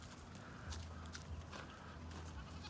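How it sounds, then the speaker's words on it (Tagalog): Faint goat bleats in a quiet outdoor setting, with a low steady hum and a few soft clicks underneath. "mga kambing namin"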